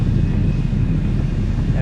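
Strong wind buffeting the microphone while windsurfing on a Swiss lake, a loud steady low rumble that fills the short stretch.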